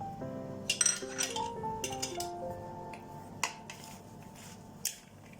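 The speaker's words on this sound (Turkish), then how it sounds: "Bu malzemelerimizi baharatlarımızı ilave edip karıştıralım." Spoon clinking against a bowl while spices are stirred into a zucchini börek filling, a scatter of light metallic taps and scrapes, close and moderately quiet, with soft tonal background music underneath.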